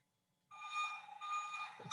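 Toy machine in a children's sound book backing up, giving a faint, steady electronic beeping tone that starts abruptly and runs on without pause.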